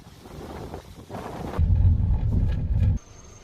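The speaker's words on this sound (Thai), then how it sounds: "ลมแรงมาก" Strong wind blows across an open country field, roaring and buffeting the microphone with a loud, low rumble that swells in the middle and then drops away abruptly.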